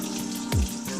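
Water from a bathroom tap runs steadily and briefly splashes onto fingers during a shave, close and fairly quiet with no talking.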